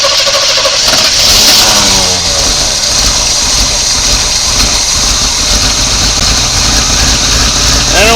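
A 1986 Chevy C10 engine, freshly revived after sitting abandoned for 15 years, runs loud and close with a steady rumbling idle and rough, uneven revving throughout.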